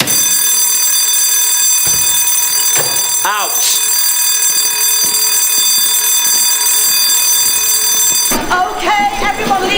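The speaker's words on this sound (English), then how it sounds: "tell them it's a false alarm" A school fire alarm rings loud and continuous, a steady electronic tone filling the space, while a voice shouts briefly over it and other sounds of people stir underneath.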